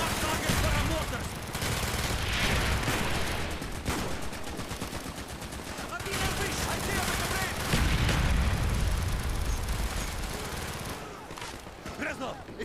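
A battlefield in Call of Duty Black Ops with mortar fire and heavy gunfire, loud and continuous with booming low impacts throughout, shouted voices partly buried in the din.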